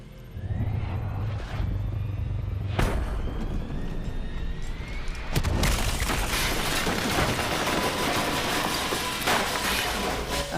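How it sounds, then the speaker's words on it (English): Explosions in the video game Call of Duty Black Ops 3, with sharp booms and bursts early on, then a dense, sustained roar of blasts and debris. "Turns out the undead have a thing for giant explosions"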